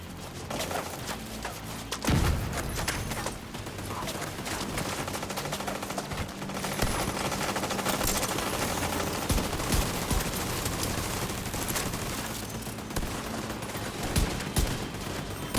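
Dense, continuous gunfire in The Division 2 includes rapid pistol shots. Heavy, overlapping reports and impacts keep up at a steady, loud level throughout, with a few harder thumps standing out.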